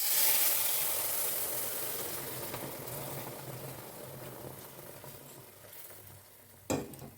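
Jaggery water poured into a hot pan hits with a loud sizzling hiss that gradually fades, ending with a brief sharp clatter.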